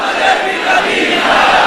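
A large crowd chants a slogan together, a dense, loud roar of many voices sustained without pause throughout.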